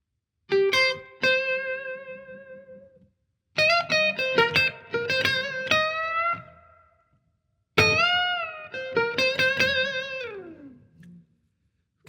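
Electric guitar plays a slow blues lick, phrased in three separate bursts of picked, bent and sustained notes with short silences between them, clean-to-lightly-driven tone, played solo and close.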